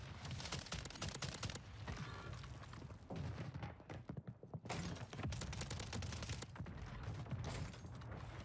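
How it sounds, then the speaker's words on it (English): Mortar strike explosions in a first-person shooter game, a dense barrage of loud booming blasts and rapid impacts rolling continuously, with a brief lull midway before the bombardment resumes. "this mortar strike"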